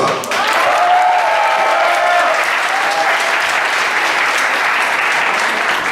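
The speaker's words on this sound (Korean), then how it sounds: "박수!" Audience applause at a church afternoon worship service, dense and loud, sustaining steadily for the full stretch with no talk over it.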